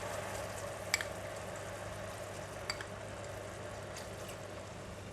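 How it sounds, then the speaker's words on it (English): Mushroom sauce in a pan gives off a soft, steady sizzle and bubbling hiss as water is added, faint and continuous, with a few light clicks of utensils and no voices. "Add in 3 tablespoons of water."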